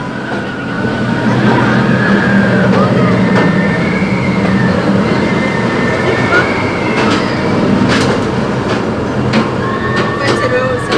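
Adventure train at an amusement park rolls steadily along its rails, a continuous close rumble with faint squeals and clacks, while riders talk over it.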